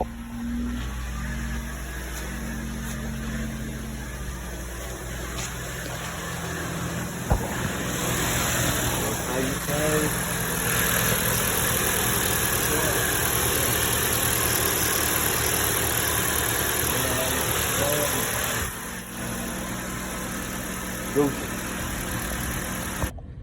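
A 2016 Jeep Compass engine runs at a steady idle, close and continuous for most of the stretch, with a few brief knocks or clunks standing out above the hum.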